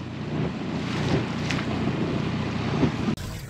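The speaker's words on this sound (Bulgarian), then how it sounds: "излезе вятър, има вълни" Steady wind roars and waves slap against a small boat trolling for trout, loud and close to the microphone with continuous wind buffeting and a brief dropout near the end.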